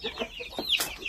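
Young native chicken chicks peeping and clucking in a small backyard, a quick cluster of soft calls and one sharper high chirp, close up and without talk.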